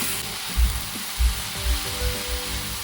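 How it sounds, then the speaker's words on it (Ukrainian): Steady low sizzling and bubbling of cabbage frying in a covered pan, with soft periodic thumps and a hiss throughout. "Перемішали, знову накриваємо кришечкою і продовжуємо смажити"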